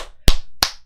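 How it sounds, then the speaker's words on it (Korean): Two sharp, loud claps about a third of a second apart, close by, with quiet in between, during a stock-market lecture. "박수 치면서"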